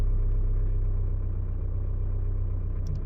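Mitsubishi Triton diesel with a 4D56 engine, suffering intermittent low power, runs with a steady low rumble as the revs are raised slightly, close and continuous with no talk.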